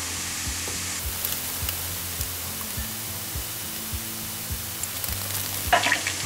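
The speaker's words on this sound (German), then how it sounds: "die Zwiebeln werden schön braun" Onions fry and brown in a pan for a turmeric stew, giving a continuous close sizzle with regular soft thuds and scrapes, and a louder crackle near the end.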